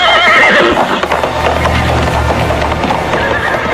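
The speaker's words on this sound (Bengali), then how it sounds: "ওই দেখ, ঘোড়ার খুঁড়ের শব্দ শোনা যাচ্ছে।" A horse neighs loudly while hooves clop in a rapid rhythm, close and prominent, with no talk over it.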